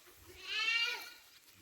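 A goat gives a single wavering bleat at moderate distance among a group of goats and kids for sale near Shymkent, rising and fading over about a second against a quiet background.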